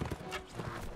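A horse in the Mount & Blade Warband video game, hooves clip-clopping in quick rhythm with a brief whinny, fairly close and steady over one second.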